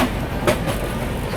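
Poorva Express train rolling past Lakhisarai railway station, a steady loud rumble of wheels and carriages with faint clickety-clack throughout and a brief sharper burst midway.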